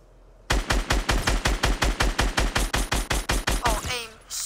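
Rapid automatic gunfire in the Fortnite video game, a steady train of about twenty loud, evenly spaced shots lasting several seconds, then a brief trailing whoosh as the burst ends.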